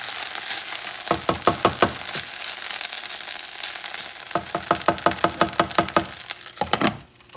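Rice with coconut milk cooking in a pot is stirred in two rhythmic bursts of quick scraping strokes over a constant bubbling sizzle, the spoon knocking the pot near the end.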